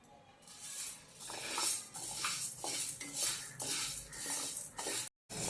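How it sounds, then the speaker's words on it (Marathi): Dry sago pearls rattle and scrape while roasting in a metal wok on a gas stove as a spoon stirs them in repeated strokes, close and steady, with a brief silent gap near the end. "आता ते साबुदाणा आहे तो भाजून घेणार आहे"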